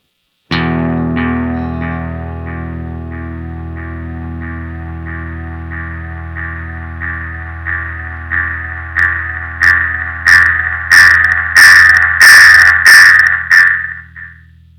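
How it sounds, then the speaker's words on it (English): A Rowin analog delay pedal self-oscillates with the feedback knob turned fully clockwise: a sustained electronic tone swells steadily while repeating echoes pile up, growing louder and denser into a ringing, pulsing feedback wash. "it's important to note this pedal does self-oscillate"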